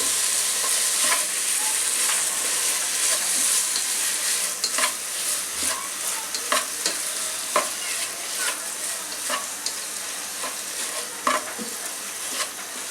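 A spoon stirs a chhana sweet mixture with sugar in a pan over a high flame, giving a continuous close sizzle marked by frequent scraping knocks against the pan.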